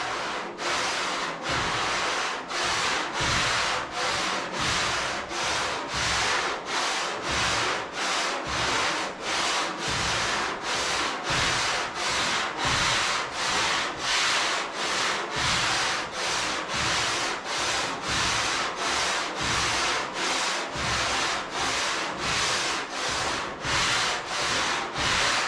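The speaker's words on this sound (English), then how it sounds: "Just gently sand on it. I'm not really applying any pressure. I'm letting the sandpaper do all the work." Sandpaper on a sanding bar rubs back and forth over car bodywork, a steady run of loud, evenly spaced raspy strokes that continues without a break and with no talk over it.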